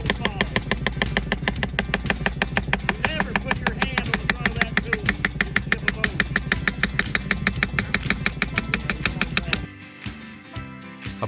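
A Grundomat pneumatic soil boring tool hammers away on compressed air in a rapid, steady pounding rhythm, loud and close, then cuts off near the end, leaving a quieter air hiss.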